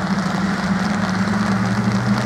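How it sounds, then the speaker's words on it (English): Steady rain falls outdoors at a junior open competition, a dense, even hiss running through the whole stretch with a low constant hum underneath. "now it started to rain a little bit heavier again"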